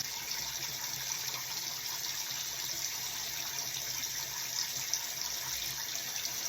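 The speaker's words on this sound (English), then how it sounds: "I'm going to turn on the warm water." Warm water running steadily from a bathroom tap into a sink, a constant soft hiss and splash close by with no talk.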